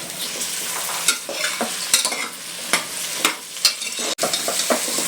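Mushrooms and pinkish onions for a mushroom biryani stir-frying in a pan, a steady close sizzle broken by repeated scraping stirs and knocks of the spoon against the vessel, no voices.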